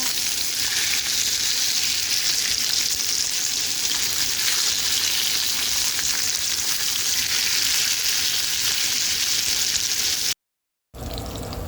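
Salmon fillets frying in butter in a pan give a steady, close sizzle that holds evenly throughout, broken only by a brief silent gap near the end.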